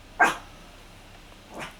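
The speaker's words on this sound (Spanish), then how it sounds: "mis perras se whatsappean con los perros de la calle" Dogs bark from a nearby house, answering street dogs: one sharp bark, a pause, then a second softer bark, with no talking.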